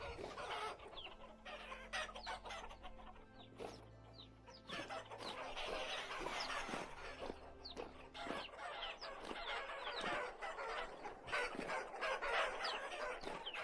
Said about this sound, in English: there's so many chickens in here at this point that even the roosters are having trouble finding each other